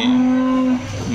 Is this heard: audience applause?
no